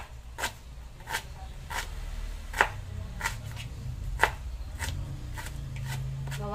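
Kitchen knife chopping onion on a board for fried rice: a steady series of about eleven crisp, close knife taps at a measured rhythm over low background hum.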